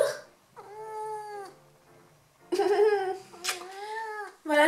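A cat meows several times up close, drawn-out, wavering cries with short pauses between them, the later ones louder and more insistent.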